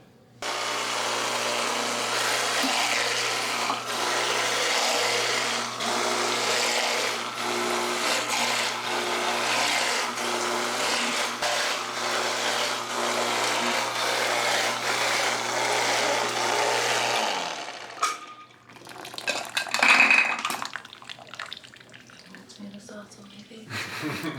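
A motorized juicer processing tomatoes whirs steadily for several seconds, then stops abruptly, followed by some clattering handling noises nearby.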